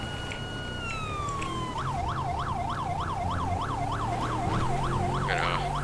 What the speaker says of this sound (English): use our priority siren to get through these intersections.